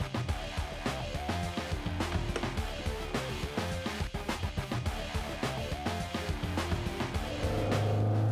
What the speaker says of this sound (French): On entend bien la mélodie du moteur.